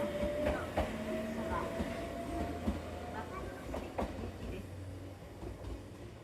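A red train pulls out of a station in Wakayama, Japan, a steady low rumble with faint rail clicks and a thin tonal whine, heard from the platform with some background voices.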